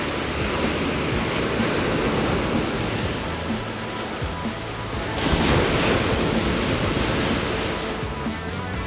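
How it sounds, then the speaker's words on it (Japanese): Surf breaking steadily on a sandy ocean beach at high tide in early winter, a continuous loud roar of waves washing in with a surge swelling toward the middle, wind noise mixed in and no voices. "結構波立つね、やっぱりね、満潮は。"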